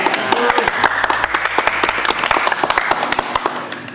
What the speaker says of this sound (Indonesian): Yeay, tepuk tangan sekali lagi.